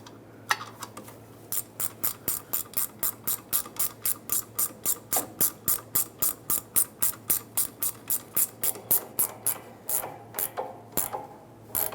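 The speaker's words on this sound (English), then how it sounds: "I'll tighten it up with my wrench" A 13mm wrench ratchets steadily on an exhaust hanger nut under a 1998-2002 Lincoln Navigator, a long run of even, rapid clicks, close and fairly quiet, with no voices.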